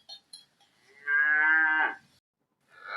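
A cow gives one loud, drawn-out moo lasting close to a second, preceded by a few short clicks and knocks and followed by the start of another call, with no talk.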